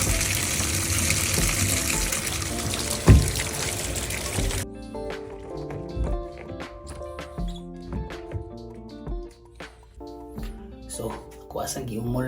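Warm water runs from a tap into a bucket to soak something, a loud steady gush that stops abruptly midway, followed by scattered drips, splashes and clattering handling, with a voice speaking near the end.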